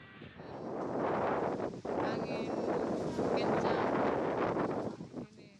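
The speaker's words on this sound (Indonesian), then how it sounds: "Angin kencang juga menerjang tenda tempat pemungutan suara di Kecamatan Marusu, Maros, Sulawesi Selatan." Strong wind gusts batter polling station tents in Marusu, Maros, South Sulawesi, a loud continuous roar of buffeting microphone wind noise with rustling, steady throughout and briefly dipping.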